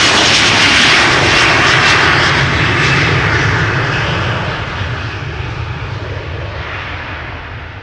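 An Embraer 175 jet airliner departs Amsterdam Schiphol Airport with a loud, close engine roar. The roar fades slowly as the plane climbs away.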